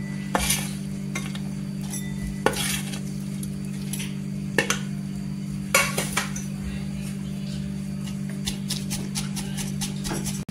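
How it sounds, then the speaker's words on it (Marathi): Green chillies being crushed with a pestle in a stone mortar for Kolhapuri thecha, heard as scattered sharp knocks and scraping clicks at irregular intervals over a constant low hum. "इथे खलबत्ता आहे त्याच्यामध्ये कुटून घ्यायचं"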